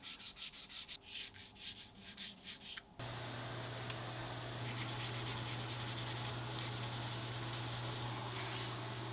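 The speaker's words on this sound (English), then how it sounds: "Then we use fine sandpaper, around 800 to 1000 grit," Fine 800 to 1000 grit sandpaper is rubbed over the red plastic scales of a Victorinox Swiss Army knife, starting with quick rhythmic back-and-forth strokes, then moving into a steadier close scratching over a low hum.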